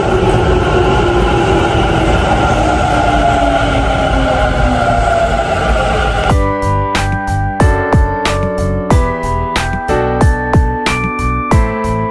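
A train at a Japanese railway station, with loud steady rumble and hiss for about six seconds, then a rhythmic run of sharp clacks and bangs as the cars roll and couple, close and continuous throughout, no talking.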